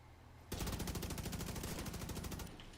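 A sniper opens up in The Division 2, a rapid burst of about twenty evenly spaced sharp shots lasting two seconds, loud and close against a quiet background.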